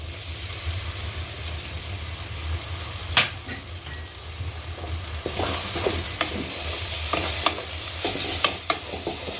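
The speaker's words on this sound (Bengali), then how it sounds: "মশলাটা কষানো হয়ে গেছে, এবার সামান্য একটু জল দিয়ে দেব।" A splash of water added to spice paste frying in a pan, a sharp burst of hissing sizzle over a low steady rumble, followed by scattered stirring clinks and crackles.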